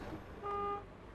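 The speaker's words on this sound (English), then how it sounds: "I didn't mean to honk the horn." A big-rig truck horn in American Truck Simulator gives one short, clear, tonal honk lasting about a third of a second over low engine rumble.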